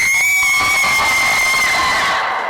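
A large evening crowd cheering and shouting at Michigan Central Station in downtown Detroit during a Ford Mustang Dark Horse SC unveiling, a loud sustained roar with a few high whoops.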